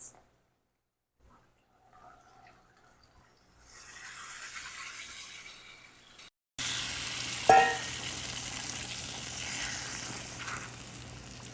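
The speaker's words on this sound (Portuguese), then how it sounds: "ele vai ficar fervendo por um tempo até soltar todos os sabores que são necessários" Tomato sauce simmers and sizzles in a pan, a soft bubbling that starts faint and quiet, then jumps to a steadier, louder hiss partway through, with a brief clink near the middle.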